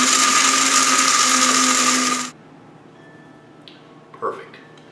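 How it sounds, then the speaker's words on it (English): A standard home coffee grinder buzzes through cocoa beans and nibs, a loud steady whir lasting over two seconds that then cuts off abruptly, leaving faint room noise and a small clink. "I'm going to put them into a standard home coffee grinder"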